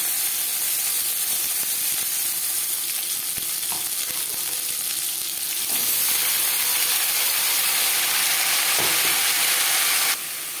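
Teasel gourd (kakrol) hits hot refined oil already tempered with dried red chilli and whole cumin, giving a loud, steady broadband sizzle that swells midway, with a few faint clicks of utensils throughout.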